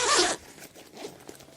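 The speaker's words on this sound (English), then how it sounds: "the bottom of the bag has a zipper, and what you do is simply unzip this" A backpack zipper is pulled open in one quick, loud rasp up close, followed by quiet handling of the bag.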